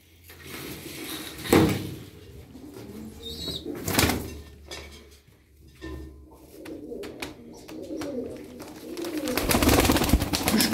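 A pigeon coos in soft, scattered calls, close by, mixed with a few sharp knocks and rustles, alone with no talk over it.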